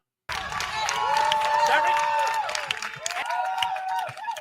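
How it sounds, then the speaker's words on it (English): A studio audience on a talk show cheers and applauds loudly right after a sudden start. The crowd noise stays dense and sustained, with whoops rising above it, and a voice may be speaking under the noise. "Now y'all want to cheer for her."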